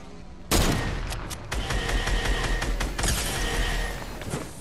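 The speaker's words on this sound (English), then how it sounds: "Why do you need to shoot me?" Gunfire in Fortnite erupts in a sudden loud blast, then keeps crackling with overlapping shots and bangs, close and dense, with another sharp report near the end.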